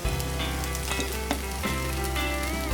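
Fried cauliflower and capsicum sizzle together in a pan for cauliflower Manchurian, a continuous close hiss with a few spatula knocks and a low background hum.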